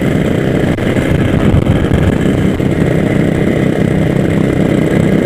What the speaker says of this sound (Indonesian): Yang pertama, menyalakan motor.